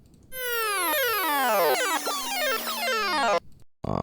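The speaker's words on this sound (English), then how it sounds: "This is the Game Over sound. Literally just sounds like when you die in a game." A synthetic game-over jingle: a cluster of tones sliding downward together for about three seconds, then cutting off abruptly.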